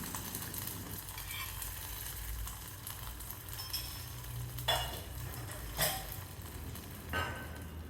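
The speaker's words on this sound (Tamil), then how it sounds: "கொஞ்சம் நெய்யில் முந்திரி பருப்பும் கிஸ்மிஸும் வறுத்து சேர்த்துக்கலாம்" Cashews and raisins fry in ghee for sweet sarkarai pongal with a steady, soft sizzle, while a spoon stirs and clinks against the pan now and then.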